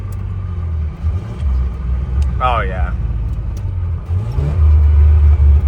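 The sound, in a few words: truck engine revving during a rev-match downshift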